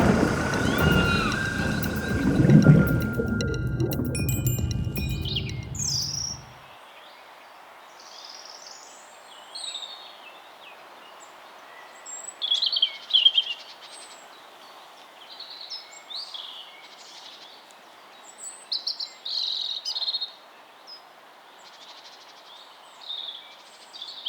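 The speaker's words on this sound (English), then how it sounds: "Birds don't just sing to make pretty music." Birds sing in a quiet natural setting, scattered short chirps and trills rising at intervals after a louder rumbling opening, fairly faint and spread out against calm background.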